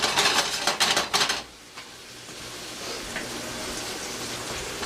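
Japanese cooking sake hits a hot steak pan with a sharp clatter, then settles into a steady, close hissing sizzle that lasts to the end.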